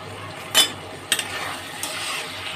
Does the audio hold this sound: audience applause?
no